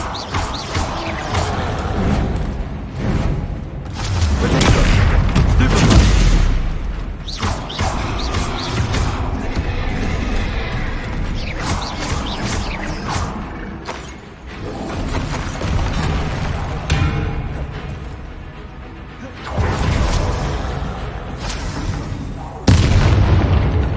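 Repeated heavy booming blasts of the Confringo spell in the video game Hogwarts Legacy, loud deep explosions with crashing debris arriving in waves over about twenty seconds, some mechanical clatter between them and no voices over them.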